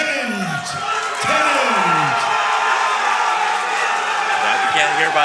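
A loud MMA event crowd roars and cheers continuously for a hometown fighter, with whoops and shouts rising from the mass, while an announcer's amplified voice booms over it.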